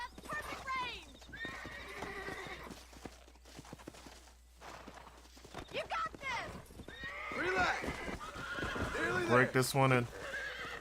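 A horse in the Red Dead Redemption video game whinnies loudly near the end, with hooves clip-clopping at a walk throughout, while a player talks over much of it.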